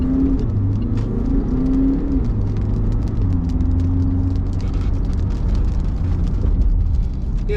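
A 2017 Land Rover Discovery Sport with a 2-litre turbo diesel accelerates, a steady low engine drone heard from inside the cabin, rising in pitch through gear changes.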